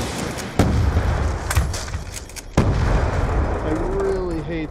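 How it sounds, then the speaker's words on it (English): Loud semi-auto sniper rifle shots ring out in the video game Call of Duty Black Ops II: two sharp, booming cracks a couple of seconds apart over steady battlefield rumble, with a voice briefly heard near the end. "Curse the semi-auto sniper."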